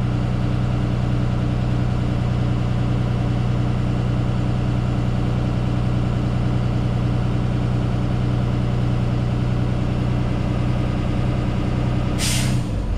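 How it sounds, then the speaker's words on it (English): A truck engine holds a steady, loud fast idle with a constant low drone, then near the end a sudden sharp burst of air hiss sounds as the air governor cuts out. "So we'll continue a fast idle until our governor kicks out."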